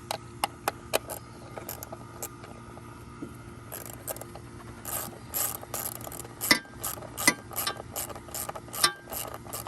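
A ratchet turns a screw back into place while spark plugs are being changed, giving quick bursts of close, crisp clicks with short pauses between them and no talking.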